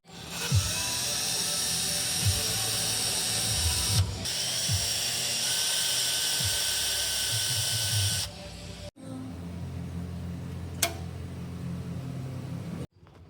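A power drill whines loudly and steadily at close range while drilling off metal bracket tabs on a Daihatsu Mira TRXX Avanzato R during an engine swap, with small bumps in pitch, a brief cut, then a second shorter run.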